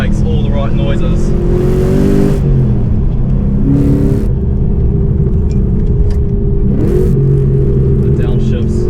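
A 430 kW VF2 Redline car engine drops through downshifts while driving, loud close rumble with repeated rev blips between gear changes.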